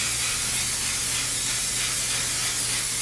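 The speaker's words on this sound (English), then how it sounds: "I'm just gonna go ahead and spray this" A continuous, loud hiss of makeup setting spray sprayed onto a face fills the whole moment, close and steady without pause.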